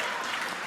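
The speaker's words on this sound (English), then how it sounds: "hit your own applause button" A canned applause effect fired from a soundboard button: a very short, dense burst of crowd clapping at steady loudness, cut off abruptly.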